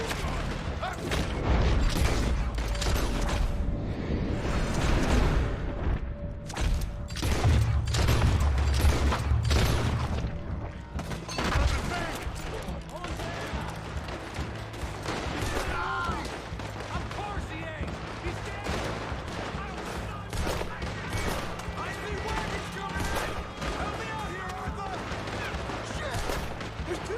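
Gunfire in the Western shootout game Red Dead Redemption 2, a dense stream of sharp shots and booms with mechanical clatter, loud and continuous throughout, under occasional speech.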